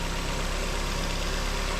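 A 2003 Ford Focus automatic with 246,000 km idles steadily, a dense, even engine hum close to the microphone with no talking.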